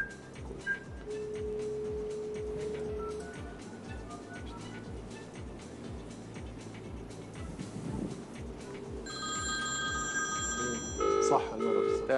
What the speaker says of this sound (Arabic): ممكن لو اتصل التليفون